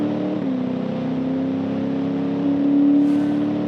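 A diesel-swapped American muscle car in a racing video game on a quarter-mile drag run, its engine droning at a steady pitch that slowly climbs, with the whine rising a little louder near the end as it accelerates and bogs off the launch.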